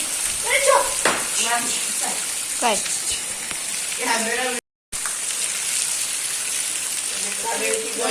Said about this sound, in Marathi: पाऊस बघा खूप खूप खूप पाऊस आहे आमच्याकडे लय लय पाऊस आहे